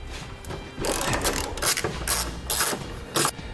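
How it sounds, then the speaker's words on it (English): A ratchet fitted with an 18mm socket working bolts loose on a truck frame rail while a trailer hitch is installed, giving loud, close bursts of rapid clicking separated by short pauses. "We'll use an 18mm socket to remove."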